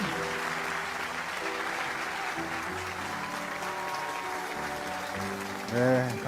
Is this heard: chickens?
no